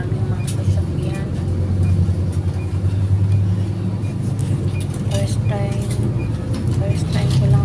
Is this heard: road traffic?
yes